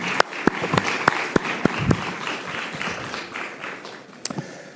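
An audience claps at a youth event, starting with sharp scattered individual claps and building into a broader round of applause that tapers off, with a few louder isolated claps near the end.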